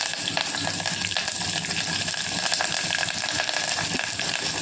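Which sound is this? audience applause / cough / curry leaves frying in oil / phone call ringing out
curry leaves frying in oil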